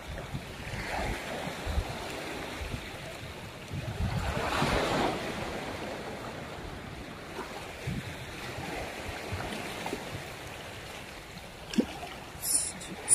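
Open-sea waves roll onto a beach at Shinas, Oman, a continuous wash of surf with one swell building louder midway, mixed with gusts of wind across the microphone.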